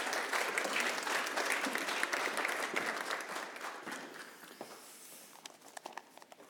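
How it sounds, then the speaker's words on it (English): A conference hall audience breaks into applause, loud at first and then gradually thinning into scattered individual claps as it dies away. "Giving a big applause."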